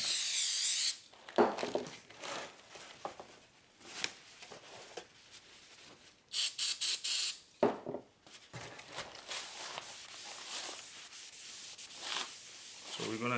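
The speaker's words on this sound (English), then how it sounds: "we're gonna use some brake cleaner to clean the lube from the factory of the brake rotor" Brake cleaner hisses from a spray can onto a brake rotor from a front brake job on a Honda CR-V, in several short loud bursts between quieter rubbing and handling sounds.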